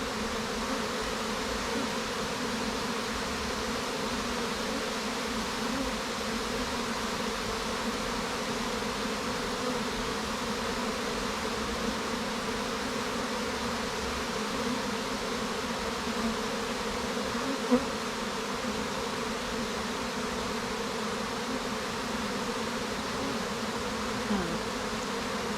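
Steady close buzzing of many honey bees around a hive, a thick unbroken drone that stays level for the whole stretch with no one speaking.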